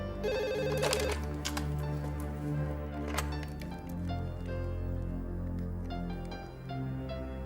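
An unanswered telephone rings indoors in an Indonesian soap drama. Repeated bright electronic ring bursts are loudest near the start, then keep sounding more faintly over a steady background.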